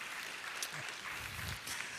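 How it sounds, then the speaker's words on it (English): Audience at a men's ministry self-care forum applauding, a steady wash of clapping that is fairly faint and sustained throughout, with a few indistinct voices mixed in. "give a round of applause"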